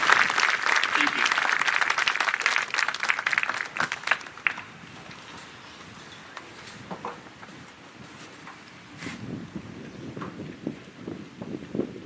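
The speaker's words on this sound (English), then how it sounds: "can we get one last round of applause for everyone, students, staff, family, and friends" Audience applause at a graduation ceremony, loud and sustained for about four seconds before tapering into scattered claps and crowd noise, with more clapping swelling again near the end.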